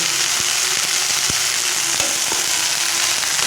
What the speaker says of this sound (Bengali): শুধু এটাকে ভেজে নেব